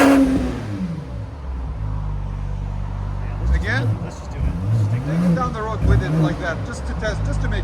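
BMW X5 xDrive50e 3.0L inline-six hybrid with a Flowmaster 80 Series exhaust idles and then pulls away, engine note rising through revs, close and loud, with voices talking over it.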